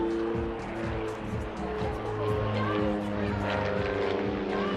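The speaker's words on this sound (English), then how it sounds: "The aircraft now brake left and right ahead of performing a very photogenic opposition pass." Aircraft at an airshow roar past in an opposition pass, a loud, continuous engine and propeller drone heard from an elevated viewing position, with a commentator talking over it.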